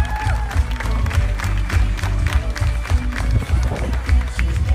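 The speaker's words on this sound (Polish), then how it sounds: "Wielkie brawa, Grzesiek Grochowski." A large crowd at a basketball team presentation in a sports hall claps and cheers continuously, with a low rumble of movement and noise beneath the steady applause.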